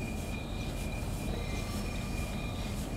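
Steady rolling rumble of a Class 395 high-speed train in a train simulator game, a continuous close drone of wheels and motors with a faint high whine, no voices.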